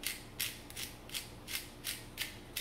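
Pepper being ground in a hand pepper mill over a dish of spaghetti squash and meatballs, a series of about seven rhythmic crunching, ratcheting twists, evenly spaced and close by.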